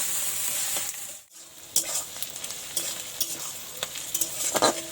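Ginger, garlic, onion and chili stir-fried together in a pan for Bengali chicken kosha: a steady close sizzle broken by scraping stirs and several sharp utensil clanks against the pan, with a brief lull near the start.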